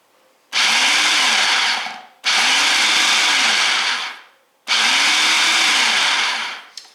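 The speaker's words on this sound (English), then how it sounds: "put the lid on and pulse the machine just to break up the butter" A food processor pulses three times in bursts of about two seconds each to break up butter with paprika for cheese straws, its motor roaring loud and close, with short quiet gaps between pulses and no talking.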